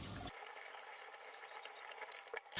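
Water runs over a Dyson V12 Fluffy cleaner head brush, rinsing soap out of it, a steady broadband splash and trickle heard alone that falters briefly near the end.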